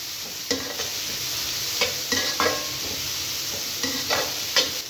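Boiled rice is tossed and mixed in a hot pan for Malaysian nasi goreng, with a steady sizzle broken by repeated scraping strokes of a spatula against the metal, close up and without speech.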